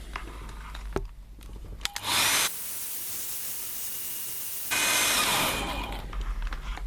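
Hair dryer blowing on a first watercolour painting, a steady loud whoosh that starts abruptly, runs for a couple of seconds, shifts in tone partway through, then cuts off, with faint handling clicks before it begins.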